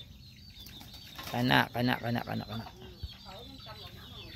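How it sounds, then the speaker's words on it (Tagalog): Chickens in the provinces flapping up onto a tree branch, a burst of wingbeats and clucking close by, with a voice speaking briefly. "Ayan ang mga manok nasa ibabaw sa kahoy"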